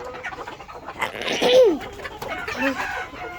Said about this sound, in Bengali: এই যে একটা মোরগ যে মার্শাল্লাহ দেখুন